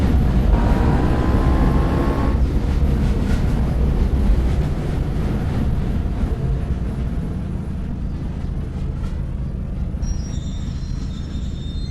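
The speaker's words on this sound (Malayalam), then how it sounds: "അപ്പോൾ കുറച്ച് ട്രെയിൻ ബാക്ക് പോയിക്കോ." A train reverses in an Indian GTA-style video game, a continuous loud rumble of rolling wheels with a brief metallic squeal early on and faint high tones near the end, steady throughout.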